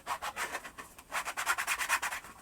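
Quick back-and-forth rasping strokes of a small sanding block rubbing a Croc-style shoe, faint and close, in two bursts of rhythmic scrubbing.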